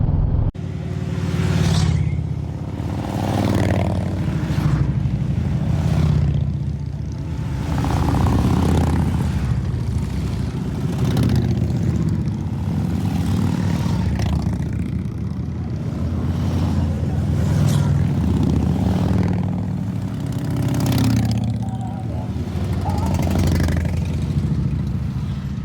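A pack of Harley-Davidson motorcycles on a Texas desert highway rumbles past in a loud, continuous engine drone that swells and fades slightly as the bikes pass one after another close by.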